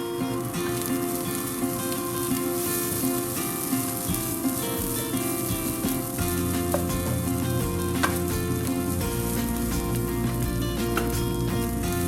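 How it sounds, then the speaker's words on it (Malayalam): Crumbled puttu stirred into a spiced masala in a hot pan gives a steady, close frying sizzle with soft stirring throughout, over a constant tonal background hum. "എന്നിട്ട് അത് നമുക്ക് ഈ മസാലയിലോട്ട് ചേർത്ത് നന്നായിട്ട് മിക്സ് ചെയ്യാം"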